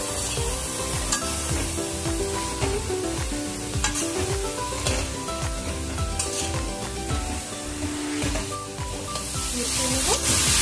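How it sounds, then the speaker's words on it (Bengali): Cabbage with turmeric, ground coriander and green chilies being stirred in a pan, a steady sizzle with scraping spoon strokes running throughout at a fairly loud level, over a dense background of music. "এইবার আমি এটাকে ভালো করে নাড়াচাড়া করবো"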